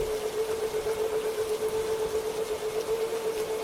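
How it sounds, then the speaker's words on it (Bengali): Steady rain falls as a cartoon sound effect, a constant even hiss with a faint sustained hum beneath, moderately loud and unbroken throughout, with no voices. "কিছুক্ষণের মধ্যেই শুরু হলো বৃষ্টি"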